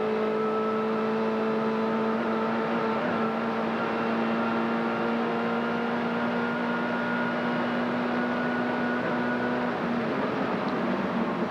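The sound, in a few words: V8 touring car engine on a lap at Bathurst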